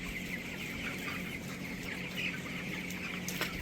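Broiler chickens clucking softly together inside a shed with wood-shavings litter, a steady low murmur of many birds with occasional louder clucks, fairly distant and quiet.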